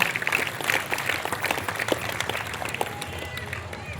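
A church congregation claps their hands together during a Lent season service, making a dense, continuous patter of many hands with voices mixed in.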